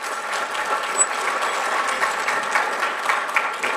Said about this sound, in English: Everybody applaud this guy.